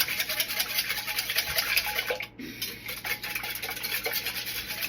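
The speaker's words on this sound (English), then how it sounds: "we're just going to whisk" Four eggs whisked in a bowl with a beater attachment, a fast, steady, fairly loud whirring and rattling that carries throughout with only a brief dip midway, and no talk.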